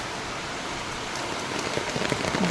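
Dense, steady rush of heavy rain pouring down, growing slightly louder with patter on a surface toward the end.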